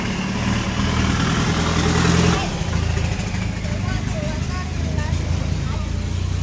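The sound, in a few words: truck engine and exhaust idling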